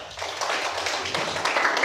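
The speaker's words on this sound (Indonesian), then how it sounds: "tepuk tangan untuk semua kelompok" A classroom of students claps for all the groups, a steady wash of many hands clapping at once that carries on evenly for the whole stretch.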